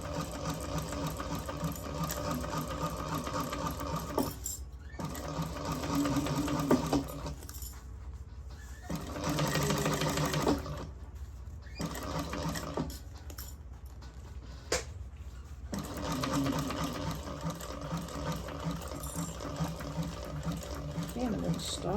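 A sewing machine stitches the bottom seam of a carry-all bag, running in steady, close, whirring stretches broken by brief stops, with faint talk mixed in.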